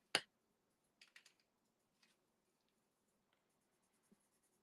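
Colored pencils write on paper, pressed down hard: a sharp tap at the start, then a few short scratchy strokes and faint scattered ticks, quiet and close, with no talk.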